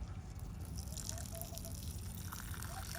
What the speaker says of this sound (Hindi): दोस्तों मैं इन्हें पानी डाल देती हूँ थोड़ा थोड़ा